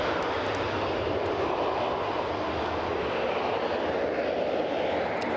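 An ATR turboprop airliner passes over Edinburgh, a loud, steady broadband roar of engines and propellers that holds evenly throughout without any talk.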